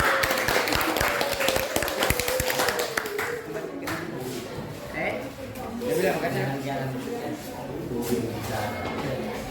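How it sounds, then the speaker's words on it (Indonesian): Classroom audience clapping for a student group's presentation in a teacher-training lesson at Universitas Papua, scattered claps mixed with shuffling and room noise, with speech over it. "Kita beri tepuk tangan."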